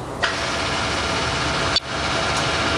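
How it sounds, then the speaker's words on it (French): A Ford Turbo Diesel car engine idles with a steady, loud, close rumble. A brief dip and click break the drone partway through before it settles back to an even hum. "Dites-moi, cette belle voiture, ce serait pas une Ford Turbo Diesel?"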